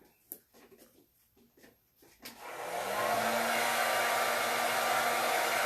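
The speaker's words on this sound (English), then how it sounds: "I use my blow dryer to speed up the process." A hair dryer on its cool setting switches on after a few soft knocks and then blows steadily with a loud, continuous airy roar close by.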